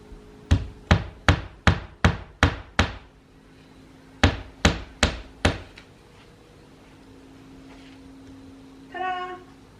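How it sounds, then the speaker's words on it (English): Hammer striking a nail into a wall at home, two close, loud bursts of evenly spaced blows, seven and then five, followed by quiet room tone and a brief meow-like sound at the end. "Hence the hammer in my hand. I'm gonna put it up with a nail."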